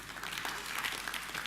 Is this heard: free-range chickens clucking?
no